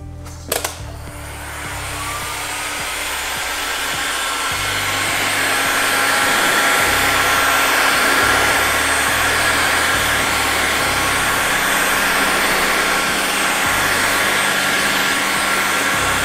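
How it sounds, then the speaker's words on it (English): A heat gun warms the badge on a car bonnet to soften its double-sided tape. A sharp click starts a loud, steady blowing hiss that swells over the first seconds and then holds close and constant. "To remove the badge, I will use heat gun."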